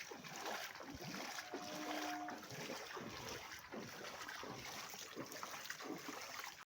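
Someone wades through knee-deep flood water on a waterlogged street in Sarat Palli ward beside Deshgourab school, with repeated sloshing, splashing strides at close range over a constant wash of water and ambient noise.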